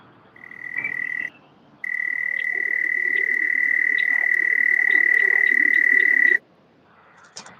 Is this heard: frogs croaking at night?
yes